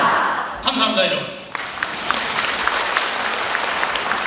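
A lecture audience breaks into applause, a dense patter of clapping that builds quickly and holds steady, following a speaker's closing words.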